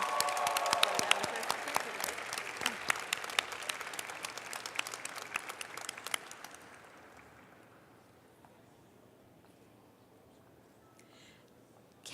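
Audience applause at a science academy closing ceremony awards presentation, a dense burst of clapping for about six seconds that then fades out to quiet room tone.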